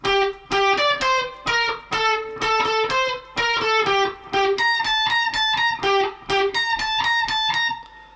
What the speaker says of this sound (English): The main riff sounds like this.